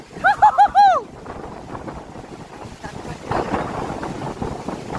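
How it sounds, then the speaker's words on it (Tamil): Strong wind buffets the microphone during a motorbike ride in the Kolli Hills, a loud continuous rushing roar that follows a few brief tonal chirps at the start. "அப்படியே காத்து தள்ளுது"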